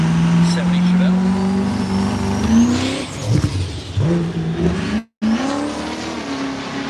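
A Tesla and a diesel-powered 1970 Chevelle launch side by side in a drag race at Woodburn Dragstrip, a loud, steady roar of engine and drivetrain rising in pitch, with a sudden cut and an announcer talking over it.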